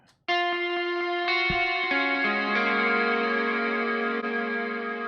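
An electric guitar played through delay and reverb pedals set to dotted eighth notes rings out sustained, layered chords whose repeats bounce left and right, blooming into a thick, shimmering wash that holds loud to the end.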